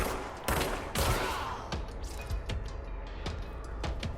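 Gunfire at a shielded enemy in the video game Control, several loud sharp shots fired in quick succession, close and punchy, with no talk.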